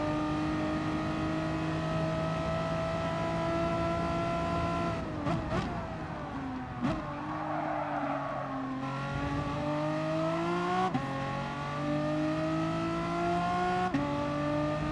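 The engine of a Megane Trophy race car in Gran Turismo Sport, racing Lago Maggiore East Reverse, drones steadily and close, its pitch dropping at several gear changes before climbing again, with no talk.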